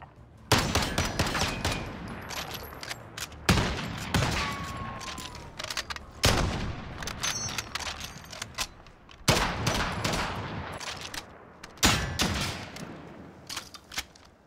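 Gunfire on a gun course in Call of Duty Warzone: repeated sharp automatic bursts, about six separate volleys spaced by brief pauses, loud and close with fading tails.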